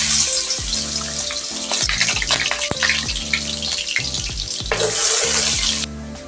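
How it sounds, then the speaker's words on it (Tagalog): Garlic sizzling in hot oil in a frying pan, a steady loud crackle and hiss running throughout, with a few brief clatters and a slight swell in intensity near the end. "Maglagay lang tayo ng mantika sa mainit na kawali. Ilagay na natin yung bawang."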